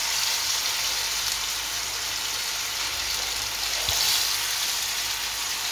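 Fish sizzles steadily as it fries in coconut oil in a kadai, a dense continuous crackle with no talk, holding even throughout with a brief pop near the end.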